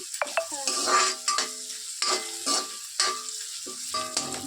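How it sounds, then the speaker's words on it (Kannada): Onions frying in a pan with curry leaves and green chillies for coconut rice: a soft sizzle under repeated scraping strokes of a spatula stirring at a steady rhythm, close up. "ಈರುಳ್ಳಿ ಚೆನ್ನಾಗಿ ಫ್ರೈ ಆಗಬೇಕು"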